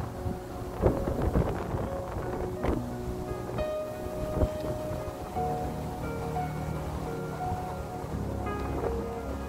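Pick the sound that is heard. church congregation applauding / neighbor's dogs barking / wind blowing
wind blowing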